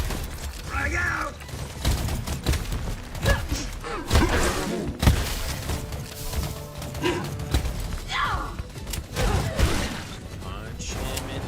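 Grenade detonations and gunfire in the video game Helldivers 2, a dense chaotic battle with repeated thumping blasts and clatter, steady and loud throughout, with voices talking over the action.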